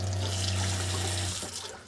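Water running from a tap into a sink, a steady close hiss and splash that tapers slightly toward the end, with a low hum underneath and no talking.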